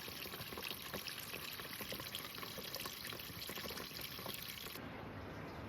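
Steady rushing and splashing rainwater pouring hard and continuously from a downspout into a drain during a storm, close and loud, with the flow easing slightly near the end.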